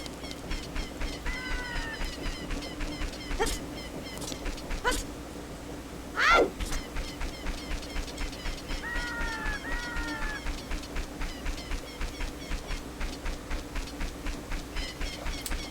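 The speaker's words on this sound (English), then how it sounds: "Just the sounds of the birds at night." Night ambience in Kakariko Village in Zelda Ocarina of Time, with repeated chirping bird calls, a steady low background hum and a few sharp clicks. One louder burst comes near the middle of the clip.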